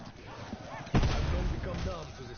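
A single loud gunshot in a video game lands about a second in, followed by a rumbling tail, while people talk over the shot.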